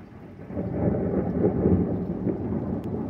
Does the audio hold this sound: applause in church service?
no